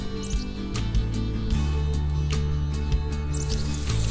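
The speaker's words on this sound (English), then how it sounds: "Just listen to the forest, to the birds." Birds chirp and call in a forest on a quiet walk, short bright tweets scattered over a steady low hum, fairly soft and somewhat distant with no talking.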